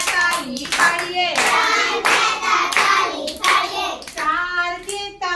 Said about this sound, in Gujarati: ત્રણ કેતા તાળી પાડીએ